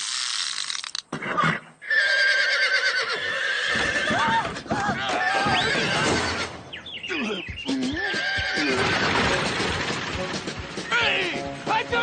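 Horses whinny loudly and repeatedly, with hooves clattering, a crash and people talking and shouting over the commotion.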